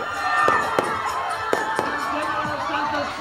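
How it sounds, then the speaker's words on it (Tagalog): A fireworks display at the Kalilangan 2014 festival sends sharp, separate bangs over a steady crowd murmur, a few loud pops spaced through the continuous hum of the gathered people. "Nagliwanag naman ang kalangitan sa magarbong fireworks display."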